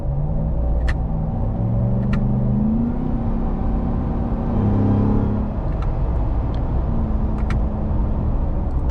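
A RAM 1500 TRX with a 702 hp supercharged Hellcat engine accelerates through paddle-shifted gears in sport mode, a loud, steady cabin rumble with rising supercharger whine and tones that step up and drop at each shift.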